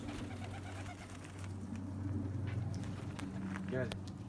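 Pigeons coo softly in a loft, low and steady under a constant hum, with someone speaking briefly near the end.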